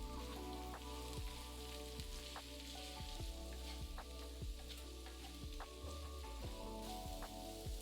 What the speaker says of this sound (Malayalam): ഇത്രയിട്ട് 10 മിനിറ്റ് ഫ്രൈ ചെയ്യുക.